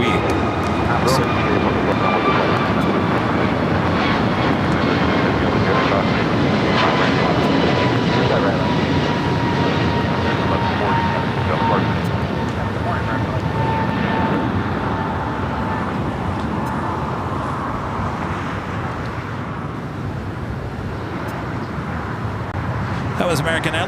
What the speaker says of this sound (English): that was American Airlines flight 1140 heading to Charlotte, A321neo